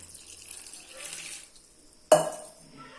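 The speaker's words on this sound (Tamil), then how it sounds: "இப்போ இதில் தண்ணி ஊற்றிக்கலாம்." About a litre of water splashing suddenly into a pot of banana flower and lentil curry, a sharp, close pouring burst after quieter kitchen sounds, then trailing off.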